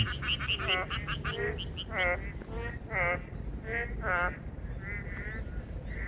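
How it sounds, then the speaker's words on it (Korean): Loud, repeated croaking calls from several frogs or toads near an apartment complex, overlapping in pulsing bursts against a steady outdoor background. "이 개구리 소리는 이렇게 크지 않을 거고 두꺼비 소리인가요?"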